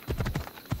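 Horse hooves galloping in the video game Assassin's Creed Odyssey, a quick run of rhythmic clip-clop beats, close and fairly loud, with no talk over them.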